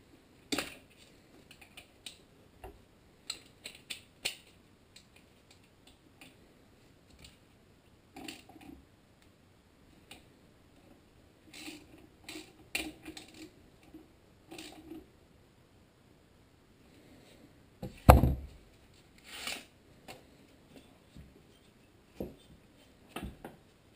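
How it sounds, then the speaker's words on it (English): Bolts being tightened on the flywheel of a Tecumseh HM80 small engine. Sparse, scattered clicks and ratcheting taps come and go, with a louder metallic clatter near the end, all quiet and close. "And then I'm going to tighten up these two bolts."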